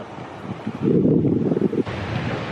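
Outdoor wind gusting where a remote-controlled FPV paper airplane is flown, a loud rushing buffet that swells through the middle and beats on the microphone, with no talking.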